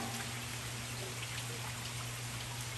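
Steady rain falling across a reservoir lake, a dense continuous patter and hiss at moderate level with a low steady hum underneath, no voices.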